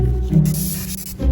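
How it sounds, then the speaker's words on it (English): A spray can hisses clear varnish onto a wasp nest in one close, steady burst lasting about a second, briefly interrupted near the end. "So now we're going to spray it and see what happens when we do that."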